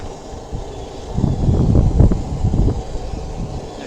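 Gusty wind blows across a backyard blacksmithing setup with a propane forge, a low, rough rumble that swells into a stronger gust midway and then eases, with no talking.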